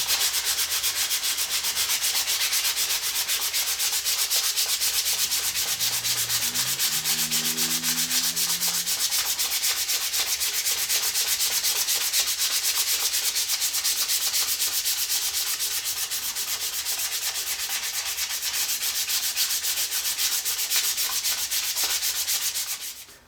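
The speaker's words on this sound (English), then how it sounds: "that's by hand sanding and scraping and all that fun stuff" A wooden ukulele neck being shaped by hand, with a steady, continuous abrasive rubbing of sandpaper that stays close and even for most of the stretch, without talk.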